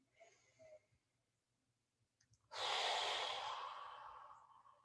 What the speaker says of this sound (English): Another nice deep breath cycle here.